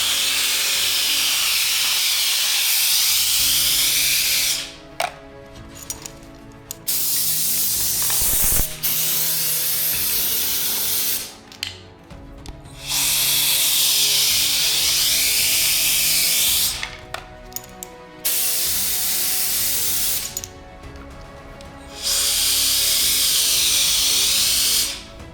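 A Wolfbox electric air duster set to 100 psi blows in four long, loud hissing blasts of several seconds each, close by, with short pauses and faint clicks between them.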